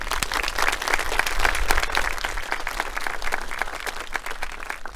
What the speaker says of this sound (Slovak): takže ho môžeme privítať potleskom.